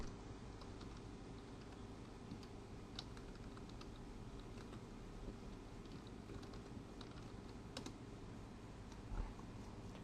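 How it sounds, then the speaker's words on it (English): Faint, steady computer keyboard typing with scattered light key clicks over a constant low background hum, continuing throughout. "Type Disneyland Paris in the search box."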